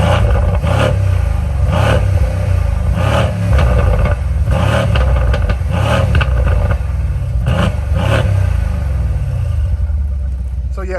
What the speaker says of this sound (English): The exhaust valves went ahead and opened on their own, and let's give it a couple revs here.